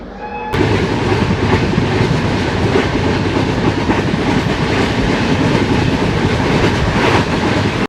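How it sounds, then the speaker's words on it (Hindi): Loud, continuous rumble and rhythmic clickety-clack of an Indian passenger train on the Patna to Ranchi route, heard from on board near a station, starting abruptly and staying dense and steady with no talk. "और ये सामने हमारी ट्रेन लगी हुई है"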